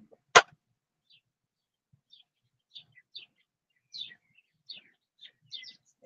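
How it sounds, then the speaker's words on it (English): Scattered high-pitched bird chirps come in short bursts, growing busier over several seconds, after one sharp loud knock at the start. "the birds just getting louder and more insistent"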